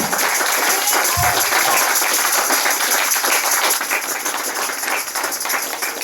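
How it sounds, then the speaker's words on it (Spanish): A church congregation applauds during a sermon, giving loud, dense, continuous clapping close by, with a single low thump early on and faint voices under the sound. "Denle un aplauso al Señor"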